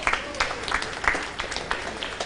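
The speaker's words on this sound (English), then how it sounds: "can we have a round of applause to Instar WP" Conference audience applause for a silver sponsor at WordCamp Bengaluru 2024 in Xavier Auditorium: a dense, even wash of many people clapping in a large hall, steady throughout with small swells.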